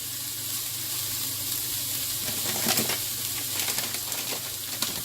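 Onions, celery, leeks and carrot sweating in a pan as a mirepoix for a Spanish sweet potato soup: a soft, steady sizzle with faint stirring clicks, quiet and continuous, no voices.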